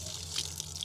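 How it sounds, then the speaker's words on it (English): Water drains from a disconnected coolant line on a compact track loader, a brief, thin trickle and splatter heard close up over a low engine-like hum. "more water, no antifreeze, but at least there's water in it, or coolant"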